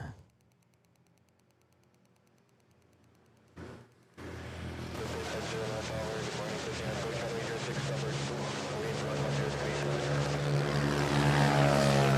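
Philippine Airlines Airbus A330 arriving from Taipei on final approach at Manila Airport: after near silence, a steady engine roar swells in at about four seconds and grows gradually louder as the airliner nears.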